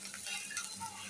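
Something frying until crispy in a pan, a quiet continuous sizzle with faint hiss, brief and alone.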